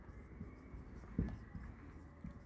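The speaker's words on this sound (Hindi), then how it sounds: "एक लाइन लिखता हूं इसमें" Chalk or marker scratching out a line on a classroom board, faint and steady with one brief sharper tap partway through, no talking.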